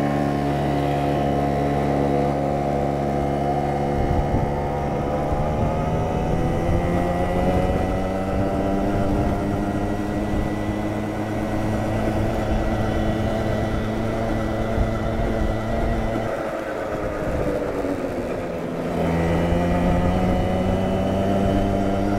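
A small Yamaha scooter engine drones loudly and continuously, its pitch climbing and falling as it revs up, eases off, then picks up again.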